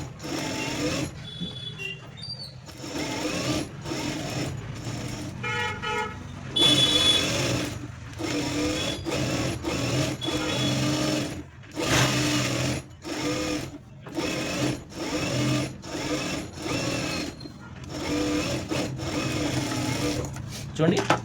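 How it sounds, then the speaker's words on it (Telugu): A sewing machine stitching around a blouse, running in repeated bursts of rapid mechanical whirring broken by short pauses, close and loud, with a person talking at times between and over the runs. "ఇప్పుడు దీని చుట్టూరా కూడా మనము స్టిచ్చింగ్ అనేది వేసేసుకోవాలి"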